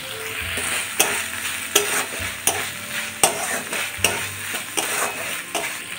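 Corn fries and sizzles in a pan with cumin, coriander and chili paste, steady crackling broken by regular scraping stirs and sharp clacks of the spoon against the pan, close up and with no talking.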